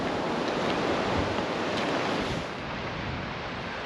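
Waves and wind sweep Sword Beach, the D-Day landing beach, in a continuous loud rush of surf with buffeting wind on the microphone and no voices.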